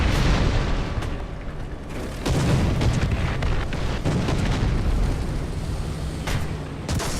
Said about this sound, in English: That's a big bomb.